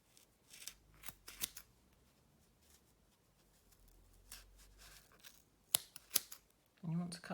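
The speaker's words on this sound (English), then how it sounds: "And you want to cut through all of the layers, but obviously not through the middle bit where you've knotted it." Scissors cutting through folded layers of material: a few soft, close snips spread across a quiet stretch, separated by pauses, with a brief rustle at the end.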